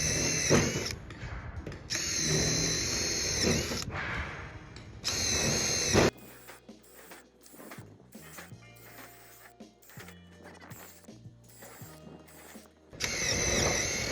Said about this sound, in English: drill out all our holes, trying to keep our nice little gap off the flashing